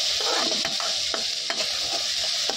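Eggs cracked into a hot pan on a truck driver's roadside cooking setup sizzle steadily, with repeated scraping and stirring strokes of a spatula against the metal throughout.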